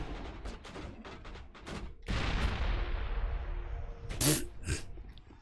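Gunfire in the Mass Effect video game: several sharp shots early, then a sustained loud burst of firing and impacts with a few more bangs near the end, close and heavy.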